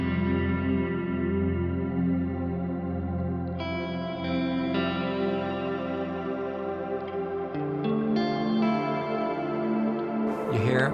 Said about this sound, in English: You hear a shimmery,